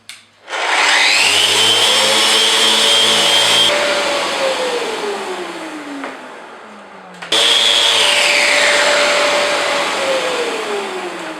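A Festool Rotex 90 sander whirs loudly on wood with 120-grit, its pitch sagging under load, stopping briefly then starting up again with a steady high whine.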